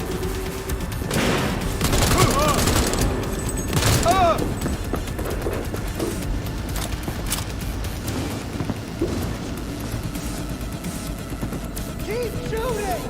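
Sustained gunfire rattles through a firefight in the video game Cyberpunk 2077, with loud continuous volleys and booms while voices shout over the shooting.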